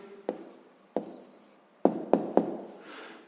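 A pen writes down an answer to a sixth-grade maths exercise, heard as a few sharp taps and short strokes on paper: two isolated, then three in quick succession, close and fairly quiet with no voice.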